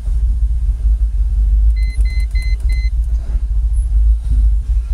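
A Jaguar XKR engine running with a foot on the throttle, producing a steady, loud, close low rumble, with a short run of electronic beeps partway through.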